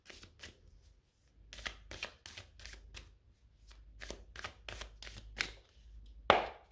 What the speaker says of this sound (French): Bon, on va remettre des cartes, on va essayer d'avoir plus de détails.